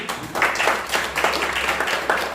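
Audience applause at a ceremony honoring an outstanding teacher, a steady wash of many hands clapping under a faint voice, moderately loud and sustained throughout.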